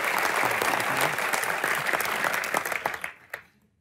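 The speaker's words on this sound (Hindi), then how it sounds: "आपका बहुत बहुत स्वागत है, जोरदार तालियां एक बार।" Studio audience at a comedy talk show claps loudly and densely at close range, then the applause thins out into a few scattered claps and stops near the end.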